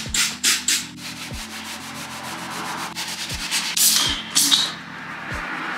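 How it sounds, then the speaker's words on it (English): Sandpaper rubbing back and forth over white-painted wood in an old cottage, a steady run of close, raspy strokes with a few short pauses and louder bursts near the end. "I kind of want to sand this down."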